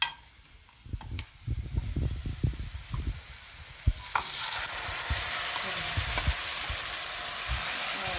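Loud sizzling of spices hitting hot oil for a wild leafy vegetable dish, starting with crackles and spattering pops, then settling into a steady, continuous frying hiss close by.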